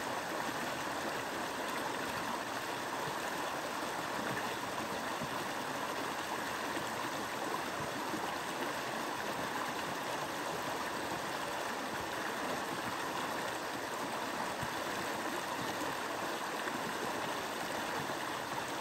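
A creek flows steadily past a campsite on Spring Creek in The Cove Palisades State Park, giving an even, continuous rush of moving water that stays close and unbroken throughout.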